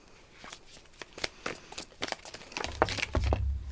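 Oracle cards are shuffled by hand in a quick series of crisp riffles and slaps, close and clear with no one talking, growing busier and louder toward the end.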